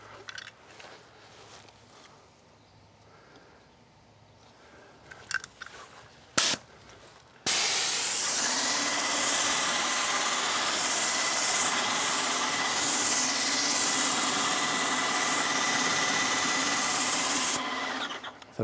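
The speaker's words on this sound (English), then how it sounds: "I'm gonna turn it down to two and see how the pump works." A steady, loud mechanical hiss and hum of a Titan Control Max 1900 airless paint sprayer pump, set to two, starts abruptly after quiet shuffling, runs continuously for about ten seconds, then cuts off.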